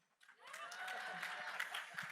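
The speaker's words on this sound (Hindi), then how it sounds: "तालियां." An audience at a film trailer launch event claps in a brief, faint burst of steady applause with some voices underneath.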